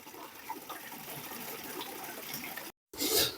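Water from a spring in the village of Arang, Bajaur, flowing and gushing in a steady continuous rush, close and fairly loud, with a brief cut near the end before it resumes.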